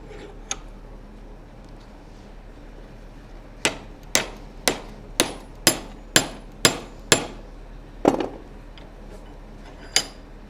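A hammer strikes hot steel held in a vise, bending the bar: about ten sharp, ringing metallic blows land in a steady rhythm after an early lone hit, then two slower strikes follow, close and loud.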